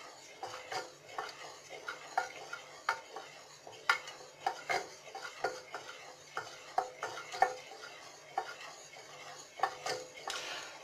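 Butter is stirred in a pan over the lowest heat, with soft irregular scraping and tapping from the utensil against the pan and a faint background hiss, close and moderately quiet, with no talking.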